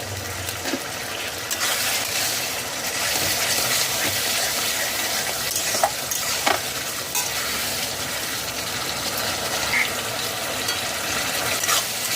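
Potato curry for a vegetarian aloo dum frying in a pan after hot water is added, a steady broadband sizzle and bubbling with occasional stirring clinks throughout, close and fairly loud, no talking.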